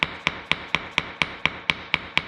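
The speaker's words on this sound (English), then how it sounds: "just taking a ball peen hammer" Sharp metallic ball peen hammer taps strike brittle epoxy in a concrete control joint in a steady rhythm, about ten evenly spaced blows, close and clear with no talking.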